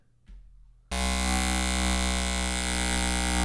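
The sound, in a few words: electric shaver buzzing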